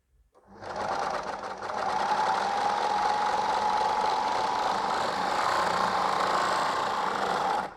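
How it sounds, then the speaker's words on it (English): Babylock Enspire overlocker stitching and cutting through fabric on a test run, running close and loud after a brief start with a steady, continuous mechanical whir that holds for about seven seconds, with no talking. "Now I'm going to do a test run on my overlocker, on my fabric."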